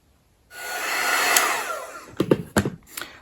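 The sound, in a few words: hair dryer heating a plastic ornament ball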